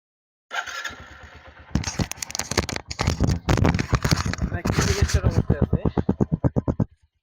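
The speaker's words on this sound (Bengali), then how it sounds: "বাইকটিতে আপনাদের স্টার্ট দিয়ে দেখাই" A 2021 Bajaj Platina ES motorcycle is started after a loud crackling start-up, its single-cylinder engine settling into a steady, close idle with rapid regular firing pulses that grow more distinct toward the end.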